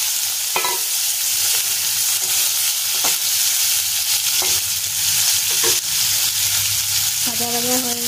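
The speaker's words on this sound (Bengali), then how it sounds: "তেল গরম হয়ে গেছে, এবার দিয়ে দেব পনির" Paneer cubes frying in hot oil for chilli paneer give a steady, close sizzle, with a few sharp clinks of a spatula against the pan and a brief tonal squeak near the end. No one speaks.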